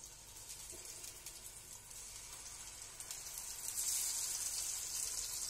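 Sliced courgettes cooking in a pan on a stove over moderate heat, giving a soft, steady hiss and sizzle that swells slightly toward the end, heard faintly and alone.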